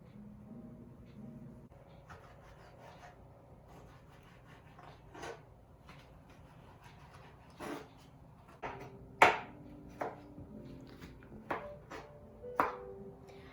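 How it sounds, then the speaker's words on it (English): A sharp kitchen knife cuts tomatoes into bite-sized pieces for guacamole, giving a scattering of faint, irregular taps and sharper chops against the board, growing louder toward the end with no talking. "Now let's cut the tomatoes."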